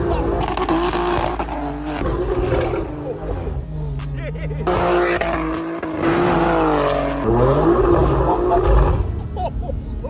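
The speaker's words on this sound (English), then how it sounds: "And now we're about to get a ride in Kicks' M4" A BMW G82 M4 Competition pulls hard during a ride-along, its engine roaring loud and close, pitch sweeping up and down through gear changes, with excited voices talking over it.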